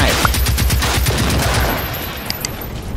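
Rapid automatic gunfire in Generation Zero, a loud, close, rhythmic burst of shots for the first couple of seconds, then fading into a lingering rumble with a few faint clicks.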